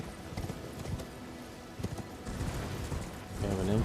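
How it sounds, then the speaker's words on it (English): Horse hooves clip-clop steadily in Elden Ring as the player rides, the footfalls moderately loud under game ambience and a swell of music. "Back on the old horse."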